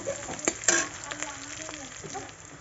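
Chicken pieces with garlic and green chilies sizzle and fry in a hot pan while being stirred, a steady crackle broken by a few sharp clinks of the spatula against the metal.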